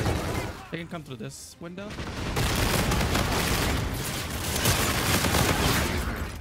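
Rapid automatic gunfire in the video game Infinite Warfare erupts after someone speaks, dense continuous bursts and booms filling the rest, loud and close.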